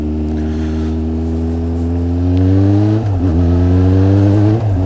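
A motorcycle engine drones loudly up close, its pitch rising steadily, then dips and wavers around a gear shift before climbing again, with no speech.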